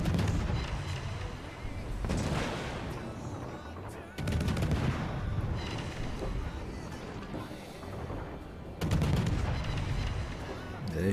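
Khabarovsk destroyer guns in World of Warships fire in loud, repeated volleys of sharp booms, with a fresh salvo every few seconds over rolling battle noise.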